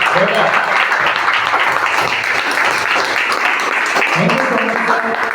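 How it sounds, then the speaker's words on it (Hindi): Audience claps at a Mi Lifestyle GTS program event for a mentor, dense continuous applause under a loud voice that keeps speaking over it. "आज उनके लिए तालियां बजवा रहा हूँ"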